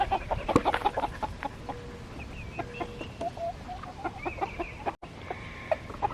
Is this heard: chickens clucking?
yes